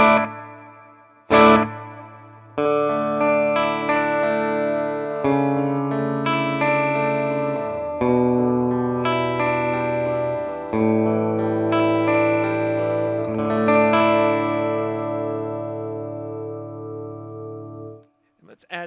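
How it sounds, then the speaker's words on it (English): Electric guitar notes played through the reverb from the delay B side of an EarthQuaker Devices Disaster Transport SR delay pedal ring out in sustained, washy chords that trail into a long tail, heard alone without talk. "now I'll add just the reverb from delay B"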